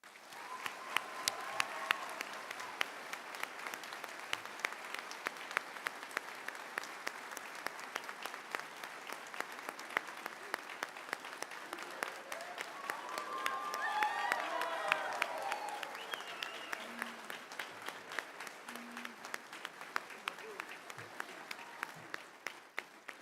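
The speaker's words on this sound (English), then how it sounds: "Ladies and gentlemen, please join me in a round of applause for Brian Johnson." Graduation audience at a career and technical center ceremony applauding, a sustained wash of many hands clapping heard from within a large hall, swelling midway and then thinning into scattered claps near the end.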